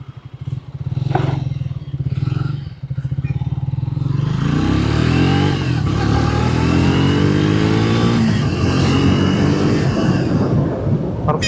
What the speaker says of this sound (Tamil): ஃபஸ்ட்டு இன்ஜின் சவுண்ட்லேருந்து ஆரம்பிச்சிடலாம். Idol sound.